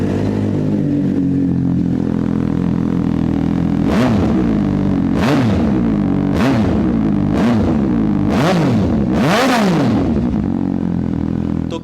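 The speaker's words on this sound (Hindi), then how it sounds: "एरो का फुल सिस्टम इसमें क्या साउंड बनाता है" A superbike fitted with an Arrow full exhaust system idles with a deep, loud burble, then is blipped six times in quick succession, each rev rising sharply and dropping back to idle, close up and alone.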